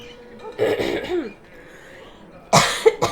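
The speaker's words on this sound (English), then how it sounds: "Pardon me while I cough." Two bouts of harsh coughing, one early and one near the end, with a faint throat-clearing sound between them.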